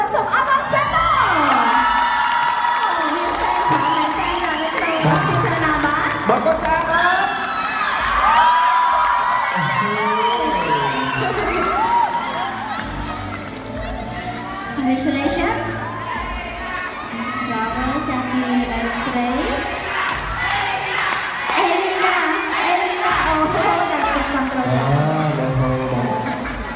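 Large audience cheering, whooping and shouting at the crowning of Miss Universe Cambodia 2019, a dense continuous roar of a big crowd with excited high voices throughout.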